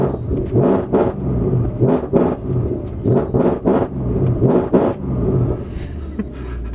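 A Mercedes-Benz C63 AMG engine revs loudly and close, in repeated rising bursts of throttle that rumble and roar in an uneven rhythm, with no talk over it.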